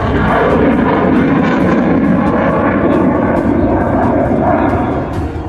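A fighter jet roars overhead during an air show rehearsal on the Purvanchal Expressway, a loud continuous broadband rush that stays powerful for several seconds before easing slightly at the end.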